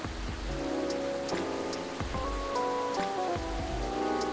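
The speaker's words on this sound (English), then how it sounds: "It's raining pretty heavy." Heavy rain in the video game Coffee Talk Episode 2, a steady dense hiss of downpour on surfaces, with soft piano and ambient music tones layered over it throughout.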